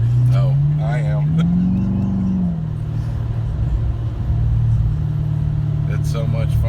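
A car laps a race track during a track day, its engine a steady, close drone that rises and falls in pitch near the start, with a voice talking over it.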